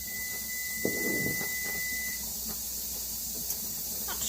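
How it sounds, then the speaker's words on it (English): A kitchen oven's preheat alert sounds as a steady electronic tone for about two seconds, with a faint hiss and light clinks of cooking in the background. "oh, that's my oven saying, hey, we're ready"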